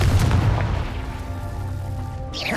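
A Confringo fire spell goes off in Hogwarts Legacy, a loud, booming explosive blast with a long rumbling tail that fills the whole moment, with a fresh whoosh rising at the end.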